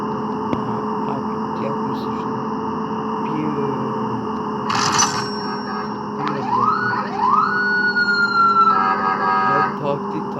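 A police car siren wails in a bus-driving video game, its rising and falling sweeps building over the steady drone of the bus engine and ambient traffic.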